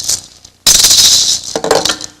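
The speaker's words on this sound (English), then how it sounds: "the vibra-slap," A sharp wooden clack sets off a buzzing, chattering rattle that rings on and slowly fades, close and fairly loud.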